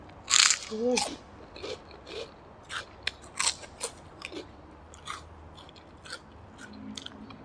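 Crisp shrimp crackers eaten alongside Thai spicy noodle soup, crunching in several sharp close bites early on, followed by softer intermittent chewing crackles over a low background murmur, with a brief vocal sound near the start.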